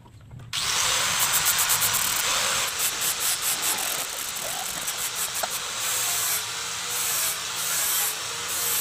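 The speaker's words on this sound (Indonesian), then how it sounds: "Kita rekatkan sementara dengan lem, lalu kita bor." A power drill bores through a brass fitting glued onto a knife blade, a loud, continuous high whining grind that starts abruptly and holds with slight pulsing.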